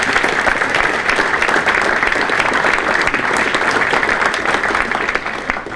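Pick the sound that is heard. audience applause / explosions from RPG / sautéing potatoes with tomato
audience applause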